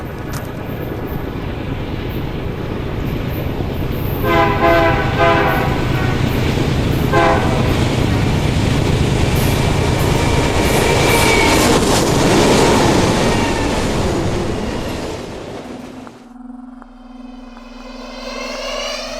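A train rushes past loudly with a blaring horn and a roaring rumble, then the noise cuts away abruptly to a quiet steady hum.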